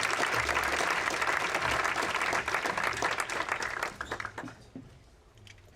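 An audience claps warmly to welcome speaker Brad Lancaster at a livability talk on planting the rain, a dense, sustained round of applause that thins and fades out over the last couple of seconds.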